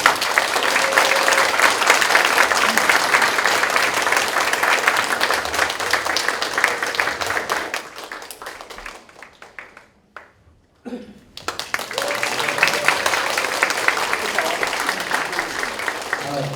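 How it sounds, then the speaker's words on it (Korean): A seated audience at a company management anniversary event applauds to welcome the company president, a long, dense round of clapping that dies away midway, then swells again and carries on strongly. "사장님을 큰 박수로 맞이해 주시기 바랍니다."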